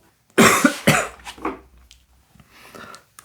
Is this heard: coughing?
yes